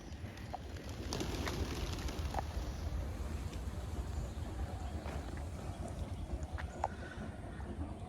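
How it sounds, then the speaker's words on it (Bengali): Low, continuous cooing murmur of many pigeons together, a steady outdoor flock sound at a theme park and resort, with faint scattered clicks throughout. "ঝাঁকে ঝাঁকে কবুতর"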